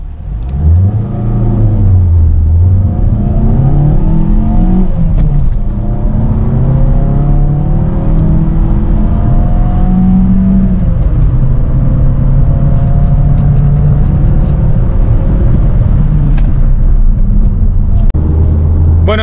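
A Mazda CX Skyactiv-G petrol engine revs hard while the car accelerates, its loud mid-pitched note climbing through repeated rising sweeps with gear changes, close and dominant throughout.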